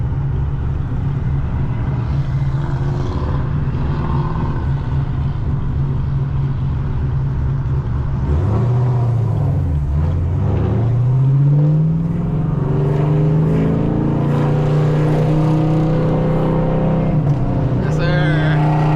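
Cammed Chevrolet Camaro ZL1 V8 drifting through turns, a loud, constant low engine drone with rising and falling revs and tire noise, close up, with voices talking over it throughout.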